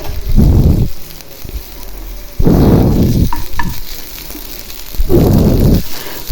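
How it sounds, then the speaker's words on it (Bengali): Onion, ginger and garlic fry in an old blackened wok, three loud bursts of sizzling and stirring separated by quieter pauses of soft hissing, with no one talking. "পেঁয়াজের সাথে একটু আদা রসুনটা ভেজে নেব"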